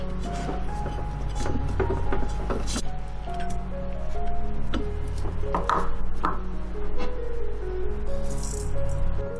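An electric stand mixer works burger bun dough at low speed as butter is mixed in, a steady loud mechanical rattle with clanking knocks and bumps throughout, and no talking.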